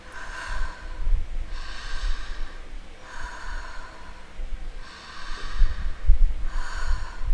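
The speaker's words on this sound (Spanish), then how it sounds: "danos un ejemplo de cómo es respiración activa" Continuous active abdominal breathing, each loud, rushing breath running straight into the next with no pauses, repeating in a steady rhythm close to the microphone with no talking.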